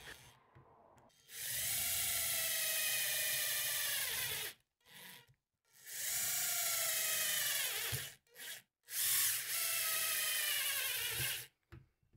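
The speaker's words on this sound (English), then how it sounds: "to fasten it, I'm going to use self-drilling screws" Power drill whining in several long bursts, driving self-drilling screws into sheet metal, with short pauses and a few brief stops in between; close and loud.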